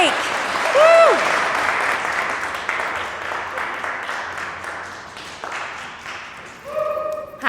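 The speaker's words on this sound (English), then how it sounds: "We clap until they get to the mic." A live audience at a community poetry celebration claps and cheers as a poet walks up to the microphone, sustained applause with a few whoops and a brief feedback squeal, fading near the end.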